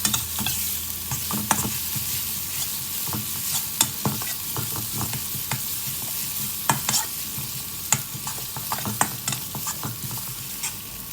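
Pork ribs are stir-fried with southern Thai curry paste in a hot wok: a continuous close sizzle broken by repeated sharp spatula scrapes and clacks at irregular intervals, with no speech.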